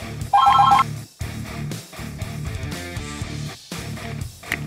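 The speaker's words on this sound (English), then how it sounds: "The bat phone!" Toy Batman bat phone ringing: a short burst of bright electronic ring tones near the start, followed by looping toy music and beeps running throughout, loud and close, with no talk.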